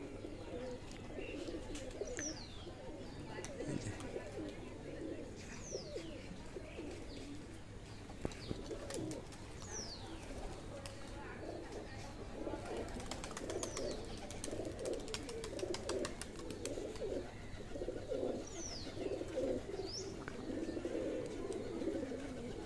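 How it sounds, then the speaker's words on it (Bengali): Pigeons coo repeatedly in a low, rolling rhythm, with chirps and faint twittering from other birds over steady outdoor background noise throughout. "এত দম দেওয়া কবুতর, এত বাজি"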